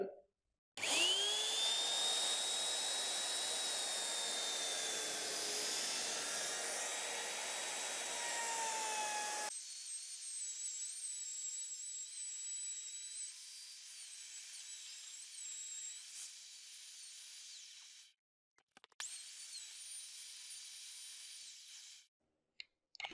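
Router bit plunging into an MDF panel to cut a recessed handle, a loud steady high-pitched whine for about nine seconds, then a quieter running hum with brief cutoffs, no talking.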